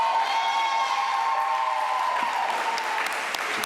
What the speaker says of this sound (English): Can we give Mrs. Davis another round of applause, please?